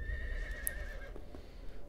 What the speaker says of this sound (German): Da steige ich mal noblerweise ab vom Pferd.